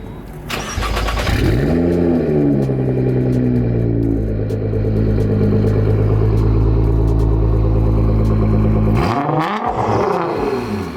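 A Rocket Bunny Nissan GT-R R35 engine starts up, then holds a loud, steady high rev for several seconds before dropping back. A short blip follows at the end, with no voices.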